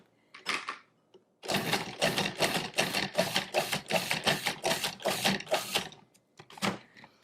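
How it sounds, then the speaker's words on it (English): Cuisinart DFP-14BCWNY 14-cup brushed stainless steel food processor pulsing seeded tomatoes. One short whirring burst is followed by about ten rapid, loud, close pulses in an even rhythm, and two more brief bursts come after a pause. "we're going to pulse that until it's finely chopped"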